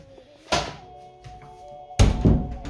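An apartment door in a newly rented flat is shut with a solid thump, followed by a heavier thud and latch rattle about a second and a half later, heard close in a quiet room.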